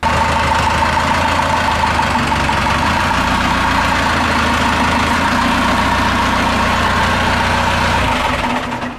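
A Ford Bronco engine idles steadily with a low, constant rumble and faint knocking throb, unchanging until it drops off at the very end.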